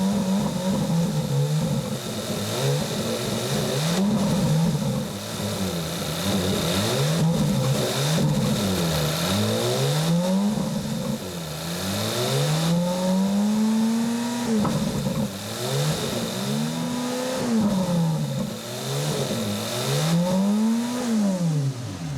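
A Ferrari engine is revved again and again after an oil and filter change, rising and falling in repeated swells for over twenty seconds, loud and close with no voices.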